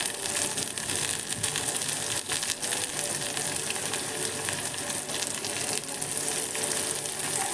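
Capsicum sautéing in hot oil for veg pulav gives a dense, continuous close-up sizzle with steady crackle throughout, occasional stirring scrapes, and no voices.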